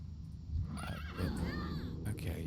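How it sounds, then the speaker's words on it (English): A horse neighs in a World of Warcraft game, a high whinny with a rising and falling pitch lasting about a second, heard over steady background game music and soft low speech. "Ride the horse."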